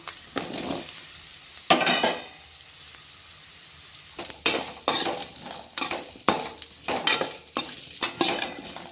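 Potatoes are tossed into a pan of crushed garlic frying in oil, giving bursts of sizzling and stirring scrapes that come in quick, uneven waves, close and fairly loud.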